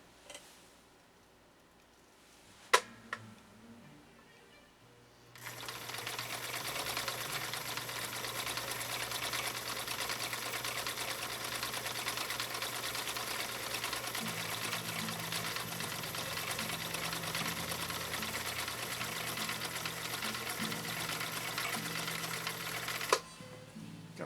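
A 1960 Viking Husqvarna CL-21A sewing machine running steadily for nearly twenty seconds on stitch 3 of cam C, a loud continuous mechanical whir and rapid clatter, preceded by a few quiet clicks and a sharp knock.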